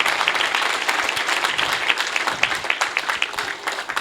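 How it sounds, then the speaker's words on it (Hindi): Loud, dense applause from an audience at a spiritual festival and meditation camp, a steady wash of many hands clapping continuously with no pauses. "जोरदार तालियों के साथ स्वागत"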